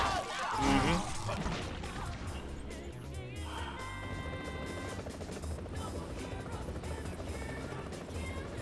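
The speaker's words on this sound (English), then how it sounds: "The helicopter's very close to the building there." Helicopter near a building in the video game No More Heroes 2: Desperate Struggle: a loud, continuous rotor roar that fills the clip, with a crashing impact early on and tonal game sounds layered over it.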